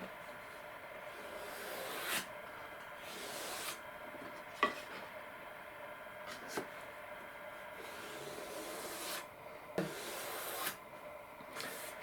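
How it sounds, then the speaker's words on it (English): A hand plane shapes the balsa wing tip of a 45-inch-wingspan model aircraft in repeated soft shaving strokes, each a short rasping swipe, close and quiet, with no talk. "We're only going to use the plane to get it roughly where we want to be"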